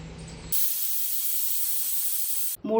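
A pressure cooker of dal on the stove lets out a loud, steady hiss of escaping steam for about two seconds, then cuts off abruptly; quieter kitchen sounds come before and after.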